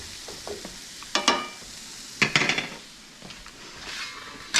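Squash scramble cooks over moderate heat in a frying pan, with a soft steady sizzle broken by several sharp clinks and scrapes of a utensil stirring and spreading the food against the pan, fairly quiet and close.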